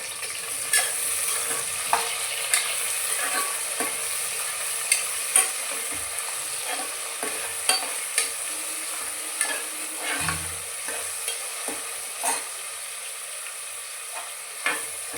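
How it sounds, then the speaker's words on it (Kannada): Two large onions fry in a pan for chicken biryani, a steady hiss of sizzling oil with regular clinks and scrapes of stirring throughout, close and moderately loud with no voices. "ಈರುಳ್ಳಿ ಸ್ವಲ್ಪ ಫ್ರೈ ಆಗಬೇಕು."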